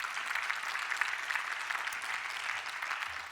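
Sustained audience applause after winners of a French e-health awards ceremony leave the stage, a dense, steady clapping from a large indoor crowd lasting throughout without pauses.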